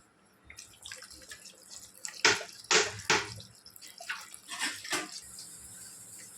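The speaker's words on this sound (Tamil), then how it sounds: "இப்போ இந்த அரிசிக்கு ஏற்ற அளவுக்கு தண்ணி ஊற்றணும்" Water splashes and pours into a pot of rice in several uneven bursts, close by, with short gurgling surges and drips between them.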